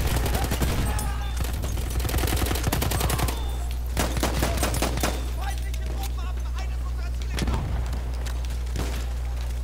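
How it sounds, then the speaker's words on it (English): Rapid bursts of video game gunfire from a rocket gun crackle and boom in repeated volleys over a steady low rumble, with loud sharp reports scattered through the stretch and a player's voice talking over the action. "The rocket gun."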